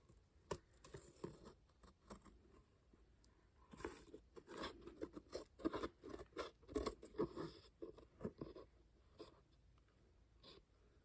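Scissors snip through blue lace on a craft journal pressing board, giving a series of small crisp cuts and rustles, sparse at first and then quicker and denser in the middle, close and fairly quiet.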